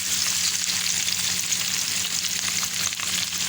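Okra and onion frying in ghee for a quick vegetable dish. A dense, even sizzle holds steady and close, with light stirring underneath and no voices.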